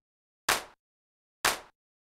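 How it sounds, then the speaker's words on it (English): Two sharp electronic clap hits in an electronic music track, isolated and loud with short bright tails, spaced about a second apart against silence. "we've got a clap sound in here that sounds like this"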